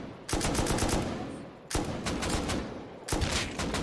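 Sustained automatic fire from an LR300 rifle with an 8x scope in a shooter game: three long, loud, close bursts of rapid shots separated by short pauses.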